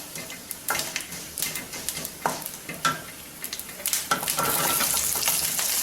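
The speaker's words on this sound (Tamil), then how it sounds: "அந்த வரமிளகாய் தாளிக்கிறோம் இல்லையா" Dried red chillies tempering in hot oil for Tamil-style arachuvitta sambar, a close, steady sizzle with sharp crackles and pops that swell into a dense, continuous frying hiss toward the end.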